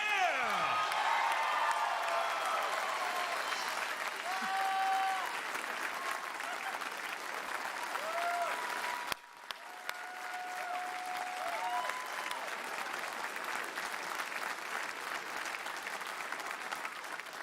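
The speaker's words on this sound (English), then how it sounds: "let's give them another round of applause" A large convention audience at PAX East breaks into sustained loud applause with cheers and whoops after an on-stage marriage proposal, the clapping continuing steadily throughout with a brief dip midway.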